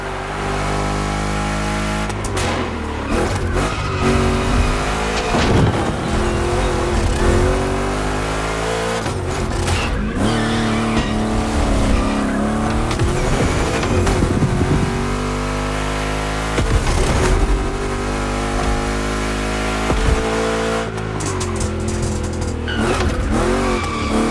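A race car laps a track in The Crew Motorfest, engine revving up and down through gear changes with repeated tire squeals and skids, loud and continuous with no talk.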